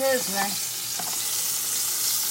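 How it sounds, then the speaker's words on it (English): Okra sizzles steadily in a hot pan, a constant crackling hiss. A brief voice sounds at the start. "It's sizzling."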